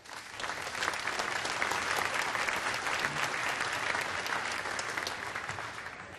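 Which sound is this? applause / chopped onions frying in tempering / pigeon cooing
applause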